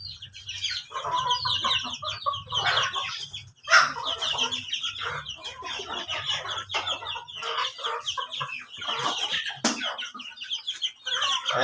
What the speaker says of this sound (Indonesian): Ini ayam manja ya.